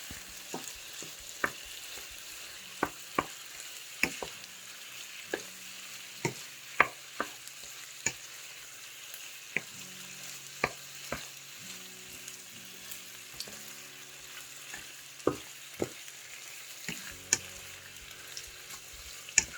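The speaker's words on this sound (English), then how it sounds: "Let that pesto cook." Pesto frying in a pan, with a steady soft sizzle broken by repeated sharp scrapes and clicks of stirring throughout, close and moderately loud, no voices.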